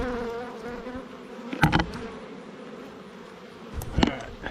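Bees buzz steadily around a hive frame as they are brushed off it for transfer into a new swarm box, a close, dense drone that swells briefly with two louder bursts.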